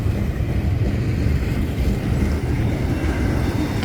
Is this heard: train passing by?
yes